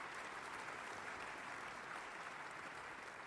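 Applause from the audience of a live orchestra recording, a steady dense clapping wash that holds evenly throughout, with no voices over it.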